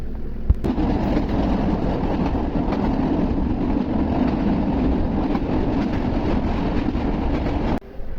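A passenger train in Bangladesh, bound for Dhaka, rolls along steadily with a continuous low rumble and rattling wheel noise, loud and close, with a brief sharp knock near the start.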